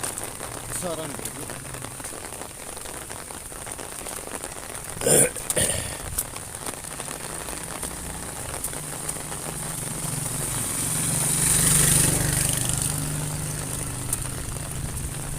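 Rain falls steadily on a village street in Lahore, a constant hiss with a brief louder swell near the middle. Voices murmur faintly underneath, and a soft low rumble passes late in the stretch.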